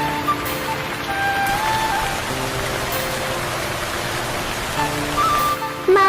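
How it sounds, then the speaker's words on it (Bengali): Heavy rain pours outside, a steady hissing wash of falling water that runs unbroken throughout, with faint tonal sounds drifting over it. "দেখো বাইরে কত বৃষ্টি হচ্ছে, সাথে বিদ্যুৎও চমকাচ্ছে।"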